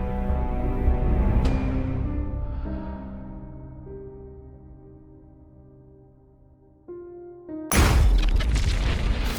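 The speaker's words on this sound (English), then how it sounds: "Into the Fire is a disaster survival game where you're thrown into the middle of a massive volcanic eruption" A volcanic eruption in the survival game Into the Fire sends out a heavy booming blast that rumbles and slowly fades, then a sharp thud and a second loud, broad explosion near the end.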